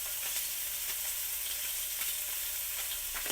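Food fries in a hot pan with a steady, bright sizzle and crackle that runs unbroken throughout, close and moderately loud with no voices.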